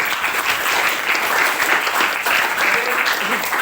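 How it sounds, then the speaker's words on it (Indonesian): A classroom of students claps for a group, a steady burst of applause from many hands lasting the whole moment, close and loud with no break. "Berikan aplaus buat kelompok"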